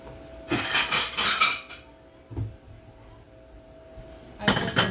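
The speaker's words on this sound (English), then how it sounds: "Okay, I'm going to get me a plate now." A plate clatters and clinks as it comes out of a kitchen cupboard and gets set down: a few bright ceramic knocks, a soft thud, then another clatter, close and alone.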